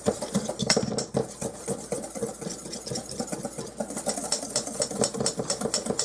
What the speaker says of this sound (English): we're just going to give that a whisk together just to mix it in